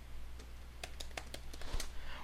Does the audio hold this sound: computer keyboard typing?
yes